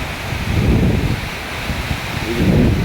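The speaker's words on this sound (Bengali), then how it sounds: "ঘূর্ণিঝড় যাচ্ছে তারপর ওরা খেলাধুলোর মজাই আলাদা প্রচণ্ড বাতাস এর মধ্যে বৃষ্টি" Cyclone with strong wind and rain, a loud rushing roar of gusts buffeting the microphone in waves, with no other sounds standing out.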